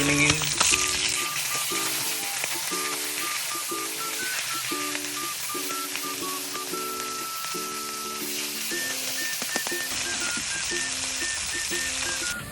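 Fish frying in a pan, a constant loud sizzle and crackle that lasts throughout, with a simple melodic tune of short notes playing over it.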